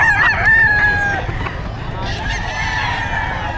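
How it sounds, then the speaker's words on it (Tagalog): Chickens and roosters at a Bocaue pet market, one loud crow up close at the start, then more calls and clucking with honking fowl mixed in, and a voice talking faintly in the background. "Ang ganda ng mga manok."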